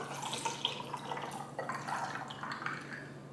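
Water is poured close by to dilute Trader Joe's cold brew coffee concentrate at a 2-to-1 ratio, a steady trickle with light splashes and drips running throughout, with no talking.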